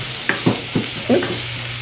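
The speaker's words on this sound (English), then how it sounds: "So we're going to let things saute for a bit." Vegetables with green peppers and zucchini sauté in a pan, a close sizzle with four or five distinct stirring knocks over a couple of seconds.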